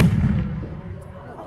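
Civil War period reenactment cannon firing, a loud low rumbling boom that decays over about a second and a half with heavy low-end energy, faint voices around it.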